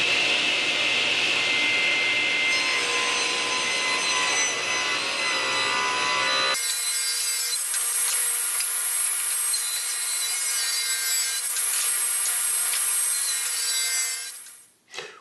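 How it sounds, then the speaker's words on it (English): A table saw rips wooden boards to width with a loud, continuous whining cut. Partway through, the tone shifts to a thinner, higher roar as the blade keeps running, then it stops abruptly at the end. "I'm back at the table saw because I haven't cut these boards to width,"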